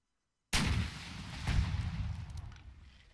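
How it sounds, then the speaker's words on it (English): A rocket blast in the military shooter Arma 3, a sudden loud explosion after half a second of silence that booms and rumbles, swells again briefly, then decays slowly into a long fading roar. "So if I shoot this rocket into that group of players right there"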